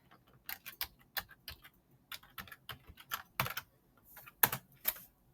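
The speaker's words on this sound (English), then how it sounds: "I'm going to enter my password." A password tapped out on a computer keyboard: quick irregular bursts of crisp key clicks, close and quiet, with brief pauses between runs and no talking.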